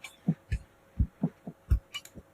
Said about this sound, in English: Transients are those sharp sounds that you get right at the beginning.